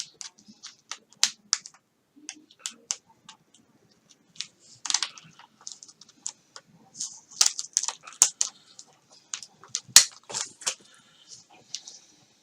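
Excess material is cut away while building a wing, giving a series of sharp, dry snips and clicks at an irregular pace, close up and isolated against near silence.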